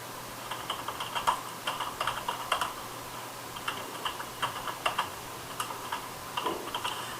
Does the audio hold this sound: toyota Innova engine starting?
no